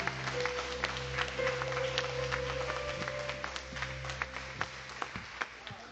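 A church congregation applauds in a steady wash of clapping heard from a distance at a fairly low level, with a constant low hum running beneath it and some individual claps popping out toward the end.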